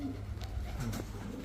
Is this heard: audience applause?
no